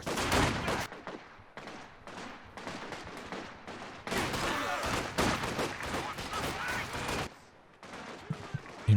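Machine gun and mortar fire in the World War II strategy game Company of Heroes 2, dense rattling bursts and heavy blasts nearly continuous, with brief pauses, loud and close.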